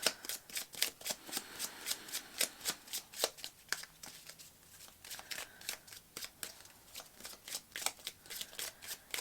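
Tarot cards being shuffled by hand in a fast run of crisp riffling flicks, close and clear, with a short pause midway before the brisk shuffling resumes.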